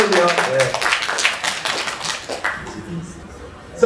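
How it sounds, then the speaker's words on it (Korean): An audience at an apartment design presentation applauds in a dense burst of claps that fades over a few seconds, heard close with a voice over it. "박수 한번 쳐주세요"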